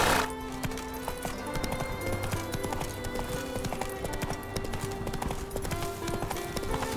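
A horse gallops in The Witcher 3, its hoofbeats clattering in a rapid continuous rhythm, loud and close, with game ambience and effects around it.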